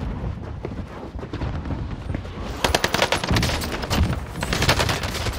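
Call of Duty Vanguard Warzone gunfire on Rebirth Island: sporadic automatic bursts crackle at first, then loud, dense sustained rapid fire takes over, with fast sharp reports close by.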